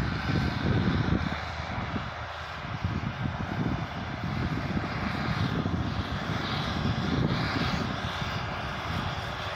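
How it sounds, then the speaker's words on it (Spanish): A Case 100 HP tractor pulls a harrow through farm soil in El Salvador, its engine giving a loud, steady low drone that runs unbroken from start to finish, with no voices. "Y vemos cómo lo que es la maquinaria realiza la labor de rastreo"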